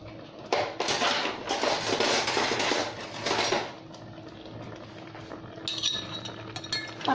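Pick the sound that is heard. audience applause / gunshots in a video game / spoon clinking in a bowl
spoon clinking in a bowl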